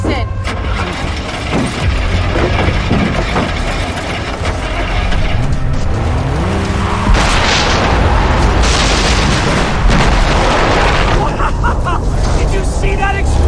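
A loud, rumbling explosion in the video game Far Cry 3 rolls through dense, continuous game noise, with crashing and booming layers sustained across the whole stretch.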